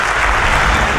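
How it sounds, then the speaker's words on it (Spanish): Brief burst of applause from an audience at a sports awards ceremony, dense clapping filling the hall, loud and steady. "voy a pedir nuevamente un aplauso para esta fiesta."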